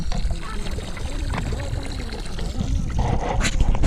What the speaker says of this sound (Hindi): ये पानी ये निकल रहा है इधर से